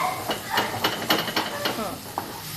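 Masala of coconut and coriander being roasted and stirred in a pan for shev bhaji, with repeated scraping strokes over a constant sizzle, close and fairly loud.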